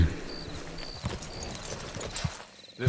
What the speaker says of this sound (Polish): przywiążemy konia